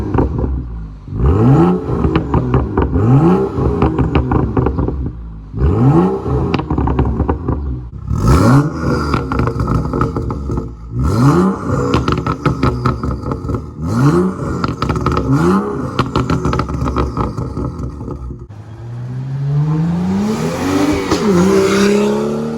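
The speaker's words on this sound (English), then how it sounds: "I'll go ahead and give you guys a couple revs just to see how it sounds." A BMW M235i fitted with a catless downpipe exhaust revs loudly several times in quick bursts, each rise and fall clear and close, ending in a longer sustained rev near the end.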